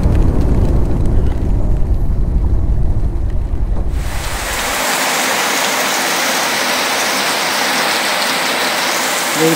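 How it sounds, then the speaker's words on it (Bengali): Heavy monsoon rain pours down in a dense, loud roar at first, then shifts abruptly to a thinner, steady hiss of rainfall, with no voices. "ভালো জোরে বৃষ্টি নেমেছে।"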